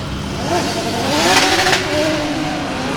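Drift cars in a pro-am battle competition revving and sliding side by side, rising and falling engine notes with tyre noise over a loud continuous roar, crowd or commentary faintly in the background.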